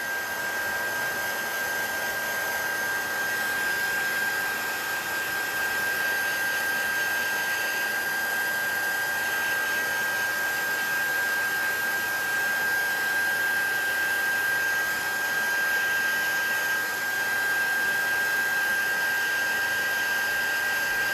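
A heat tool blows continuously and loudly close by, drying paint in an art journal, with a steady whooshing airflow and a constant high motor whine that holds unchanged throughout.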